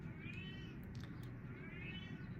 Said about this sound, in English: my cat is now meowing at the door because he wants to come in